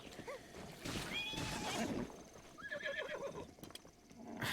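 A horse in the video game Zelda Breath of the Wild gives two loud whinnies, with hoof clip-clops and game sounds around them, near and clear with no talk.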